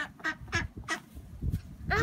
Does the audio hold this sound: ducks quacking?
yes